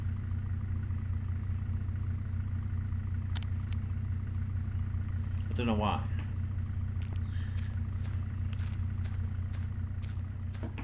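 A car engine left idling in the horror game Face of Fear: The Forester, a steady low rumbling drone throughout, under a man's brief speech.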